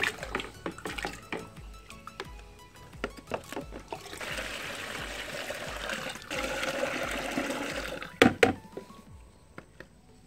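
A stirred liquid is poured into a storage pipe for a simple capillary hybrid chili-growing setup. It arrives as a trickle among scattered knocks and clatters, turns into a steadier pour through the middle, and ends with a few louder bumps, all fairly faint.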